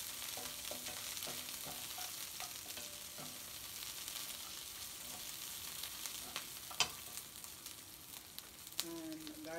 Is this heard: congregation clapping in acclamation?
no